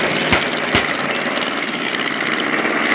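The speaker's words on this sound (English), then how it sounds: "there a DR1 pursues an SE5A" WWI Fokker DR1 triplane chasing an SE5A biplane at an outdoor air display, a loud continuous droning roar of piston engines and propellers with no speech.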